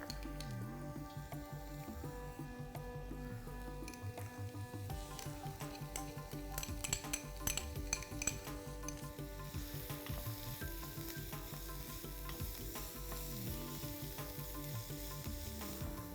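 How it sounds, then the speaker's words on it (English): Onion and garlic sautéing in olive oil in a pan, giving a steady low sizzle with occasional stirring scrapes, fairly faint and continuous throughout with no voices. "So we'll start by sauteing some onion and garlic."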